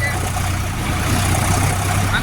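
A tractor engine running with a steady low, throbbing drone close by, unchanging in pitch, while people talk over it.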